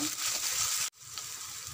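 Dried chili, shallots, garlic and ginger fry in hot oil with mustard seeds for a vegetable dish, a steady close sizzle that cuts out briefly and then resumes slightly quieter.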